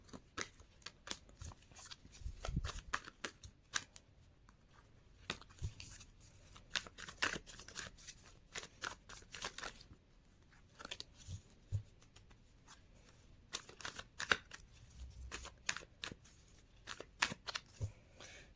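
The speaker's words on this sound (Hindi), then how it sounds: "शफल कर लेती हूँ मैं इसको अच्छे से।" Tarot cards are shuffled again and again in quick riffling and slapping bursts with short pauses between, close and fairly quiet, and no one speaks.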